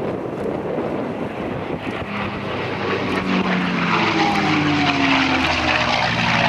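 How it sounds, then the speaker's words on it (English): A Merlin-engined propeller warbird flies past at an airshow, a loud steady drone of engine and propeller with a rising tonal whine, heard close with some wind buffeting on the microphone and no talking. "I just wanted you to have a chance to hear the incredible sound of this Merlin engine"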